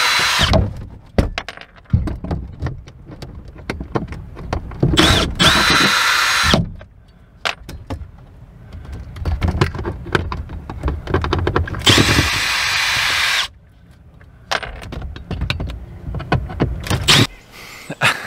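Power drill backing out the screws that hold a water pump to a wall, several loud whirring bursts of a second or two each, separated by quieter handling and clatter nearby.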